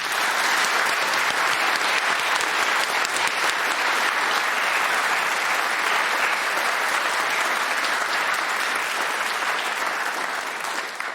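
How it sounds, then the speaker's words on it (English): A studio audience at a Brain of Britain quiz heat applauds the winner with loud, even, unbroken clapping that carries on steadily throughout. "Very well-deserved applause."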